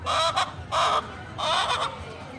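Chickens give three loud, raspy squawking calls in quick succession, close by, with brief pauses between them and no talking.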